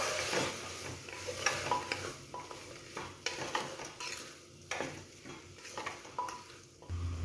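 A spoon scrapes and stirs around a pot of tomato soup in repeated strokes after salt is added, with a soft sizzle underneath, close by and moderately loud.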